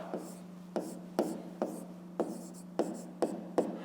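A pen writes by hand on paper during a fifth-grade maths lesson, about eight short scratching strokes in a loose rhythm, quiet and close, over a faint steady hum.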